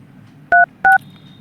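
Keypad tones on a Redmi 12 5G phone as a service code is dialed: two short, loud, evenly spaced beeps over quiet room noise.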